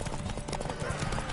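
Horse hooves clip-clop steadily in a PS4 video game, a close, continuous trotting rhythm with game voices talking over it.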